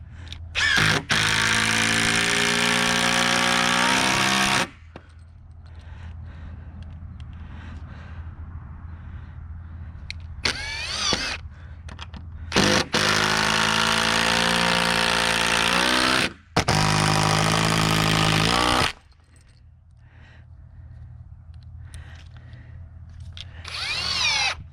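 A power drill drives screws into a wooden fence post in several long, loud whirring bursts separated by quieter pauses with faint handling noise and a low background hum.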